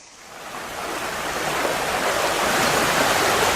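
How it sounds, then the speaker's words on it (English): Freshwater stream rushing into a saline estuary creek, a broad, continuous watery hiss that swells gradually and stays steady and close. "A little freshet coming into the saline creek here."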